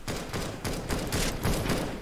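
Shotgun and rapid gunfire from the video game Valorant comes as a dense run of loud, close bursts and thumps, repeated several times in quick succession with no pauses or speech.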